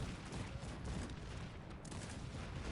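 Cannon fire and massed gunfire in the strategy game Cossacks 3, an 18th-century battle with a steady, dense roar of overlapping booms and volleys that never lets up.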